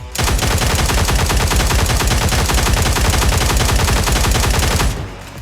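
Sustained rapid gunfire in the shooter game Cyber Hunter, a dense, loud automatic burst running continuously for about five seconds before cutting off, with no talk.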